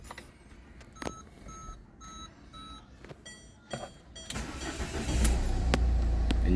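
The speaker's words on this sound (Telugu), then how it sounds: "సో వెహికల్ స్టార్ట్ చేద్దాం ఒకసారి." A used 2013 Ford Figo Titanium diesel with 66,000 km: dashboard warning chimes beep a few times, then the engine cranks, catches and settles into a steady, loud diesel idle.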